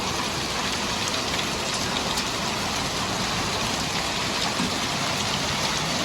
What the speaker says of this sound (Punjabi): ਆਹ ਦੇਖੋ ਮੀਂਹ ਦੀ ਵੀ ਪੂਰੀ ਫੁੱਲ ਸਪੀਡ ਹੈ